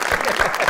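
Studio audience applause on a Pakistani television talk show, a short dense burst of clapping from a crowd that holds steady at full volume throughout.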